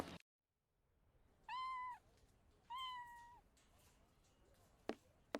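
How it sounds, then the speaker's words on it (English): A cat in a Sherlock Holmes game gives two clear drawn-out meows in quick succession, close and distinct against a quiet background, followed by a couple of short clicks. "Oh, the little kitty."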